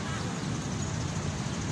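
Seabirds call at Manila Bay near the Manila Yacht Club in a dense, continuous mass of squawks and honks, loud and close, with no gaps over the short stretch.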